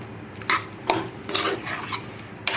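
A spoon stirs hotel-style chicken curry in a pot, producing repeated scraping clinks and knocks against the metal at an uneven rhythm, close and fairly loud.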